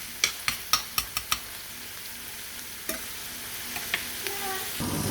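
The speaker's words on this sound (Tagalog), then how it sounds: "So, gisa lang din natin ng kaunti." Small salted, preserved shrimp (hebe) are sautéed in a pan. A quick run of sharp spatula clacks comes first, then a few scattered taps over a faint, rising sizzle.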